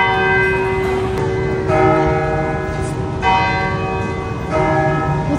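Church bells at St. Joseph Cathedral in Hanoi ring loud and close, sustained overlapping tolls with fresh strikes arriving every second or so and a long ringing decay.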